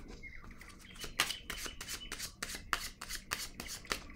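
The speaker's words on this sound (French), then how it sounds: "je vais déposer une carte ici." Tarot cards handled, shuffled and laid down on a table for a Gemini reading: a quick series of crisp riffling swishes and soft slaps, close and fairly loud.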